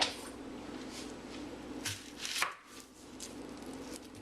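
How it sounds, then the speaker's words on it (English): Knife chopping an onion on a cutting board in a home kitchen, a few soft irregular cuts and knocks, close and fairly quiet. "You need to chop up an onion."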